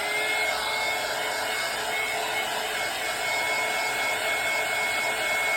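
A handheld dryer blows steadily on a painted craft sign made from a Dollar Tree cutting board, a continuous close whooshing drone with no pauses or talk.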